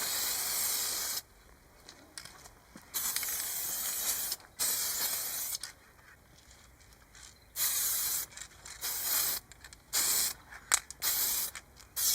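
Aerosol spray can of chassis black paint being sprayed, likely on a 2-stroke Yamaha YB-1 moped part, in repeated loud hissing bursts of one to two seconds separated by brief pauses, with no talking.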